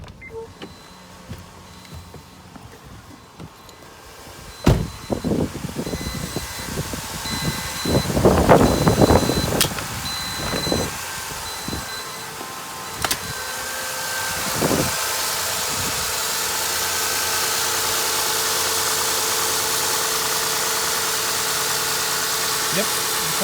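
A second-generation Honda Odyssey minivan with 171,000 miles idles steadily and smoothly nearby, a low continuous hum with a few clanks and a voice speaking early on.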